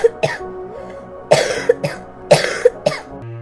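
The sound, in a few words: woman coughing loudly while ill with fever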